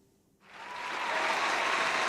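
Applause breaks out after a quiet moment, rising quickly into a dense, sustained wash of clapping from a sizable crowd, with no voices.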